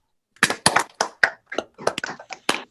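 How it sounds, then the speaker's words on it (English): A handful of scattered hand claps, sharp and uneven, sounding thin and compressed like several people clapping separately over a call. "if everybody could just come off mute and just clap for Alex."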